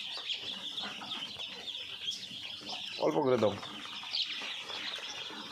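Hungry Khaki Campbell ducklings peep in a continuous high chorus while they are fed. Someone speaks briefly over them, and a short burst of louder calls rises in the middle.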